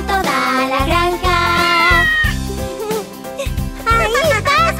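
Cat meows are sung as part of a Spanish children's song about a tractor on a farm, with repeated 'miau' calls voiced by a singer over a bouncy musical backing.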